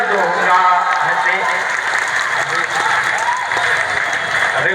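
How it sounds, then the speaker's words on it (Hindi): Steady, dense applause from an audience at a Hindi poetry gathering (kavi sammelan) fills the whole stretch at full volume, with no pauses. "अभी कुछ लोग जो है इधर पे तालियां कम बजा रहे हैं"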